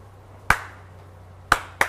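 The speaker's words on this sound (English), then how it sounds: "Give us a clap, David." Sharp, close hand claps from a man on a junkyard car-rescue show ring out in a quiet space: one crisp clap, a pause of about a second, then two more in quick succession.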